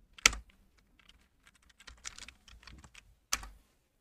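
Keystrokes on a computer keyboard while quitting vim with escape and :wq, a few sharp isolated clicks spaced across the moment, the first and last louder, with softer light taps in between, close and alone.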